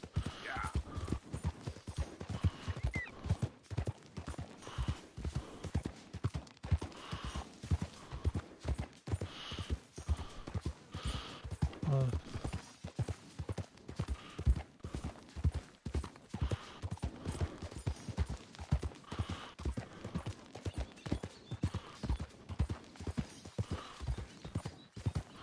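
Horse hooves clip-clop steadily in a video game as a rider follows a trail toward a river, the even rhythmic footfalls continuing throughout with no talk over them.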